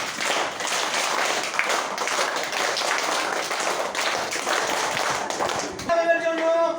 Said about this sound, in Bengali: স্কাউট তালি বাজায় জোরে